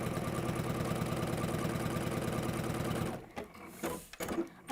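Sewing machine running steadily at a fast, continuous stitching rhythm while chain piecing fabric, then stopping abruptly near the end, followed by a few short bursts and faint handling noises.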